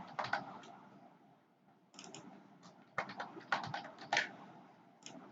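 Someone types on a computer keyboard in quiet, irregular bursts of soft, close key clicks separated by short pauses.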